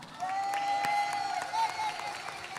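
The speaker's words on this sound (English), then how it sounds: "Come on, cheer her on." Summit audience breaking into applause with scattered cheers, a brief burst of clapping from a crowd with a voice briefly rising over it.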